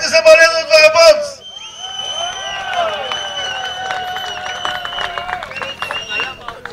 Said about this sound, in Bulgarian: аплодисменти за Малено от Вагабонц